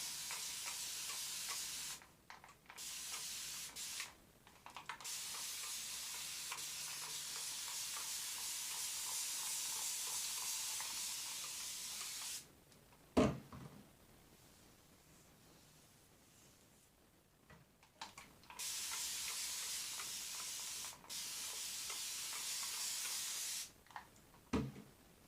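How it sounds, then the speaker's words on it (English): Spray bottle misting water onto hair before two-strand twisting, a series of hissing sprays of varying length, several long bursts separated by short pauses and a brief handling knock midway, fairly quiet and close. "once I spray with water"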